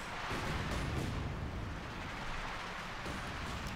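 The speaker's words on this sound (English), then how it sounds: "Heavy fire there against the Panzer 4. We've got the field guns under fire there from Bulat's light infantry shots." Heavy gunfire and artillery in the World War II strategy game Company of Heroes 2 form a dense, faint, distant rumble of blasts and shots that churns on steadily throughout, with no voices.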